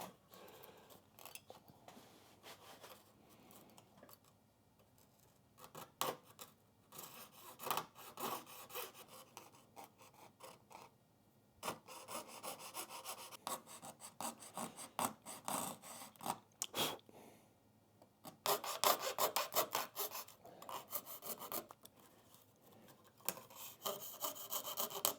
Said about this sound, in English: the next part, we're going to actually cut this inlay.